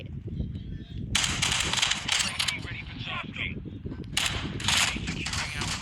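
Bursts of gunfire from Call of Duty Warzone Mobile break out in rapid volleys over a steady low game rumble, loud and close, with a pause between clusters of shots.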